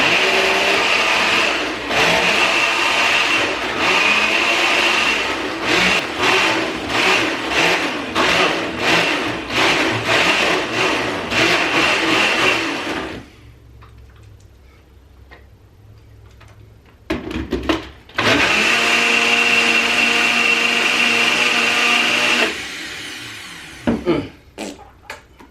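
A kitchen blender mixes a homemade milkshake with loud, close motor whirring. It runs steadily, cuts out for several seconds, then roars again in a second shorter burst before stopping.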